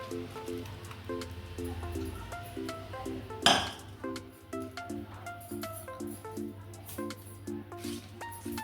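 Cooled tempering being mixed into homemade tomato pickle, with a steady run of soft scraping and clinking of a spoon against a steel vessel, one sharper clatter partway through, and background music throughout.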